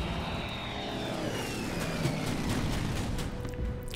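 A fighter aircraft engine in the Pacific war strategy game Order of Battle Pacific drones steadily and loudly for the whole stretch, a continuous propeller roar with a faint rising and falling whine.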